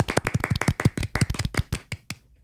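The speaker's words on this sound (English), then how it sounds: "Golf clap." A quick run of light, soft golf claps, about twenty brisk pats in an irregular rhythm that slow and fade toward the end, close and on their own.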